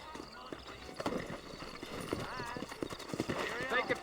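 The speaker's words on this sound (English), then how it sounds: "You ain't gonna find sturdier horses than these in all of New Ulster." Horses in the Red Dead Redemption video game clip-clop steadily and give a whinny near the end, while someone talks over the hoofbeats.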